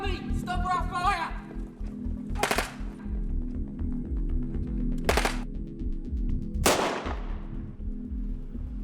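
Gunfire in a staged police or security shooting scenario: three sharp shots spaced a couple of seconds apart, loud against a steady background din.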